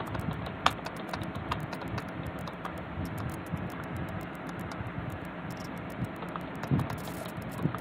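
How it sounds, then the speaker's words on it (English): Someone types a message on a computer keyboard, producing a run of light, uneven key clicks with occasional sharper taps over a faint background hiss, and nobody speaks. "let me go ahead and type this message in for our friends there."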